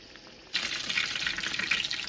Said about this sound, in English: I pulled some of these tomatoes out of the freezer and we're frying them